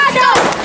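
A balloon blown up by mouth until it bursts during a party game. One sharp pop lands midway, with voices around it before and after.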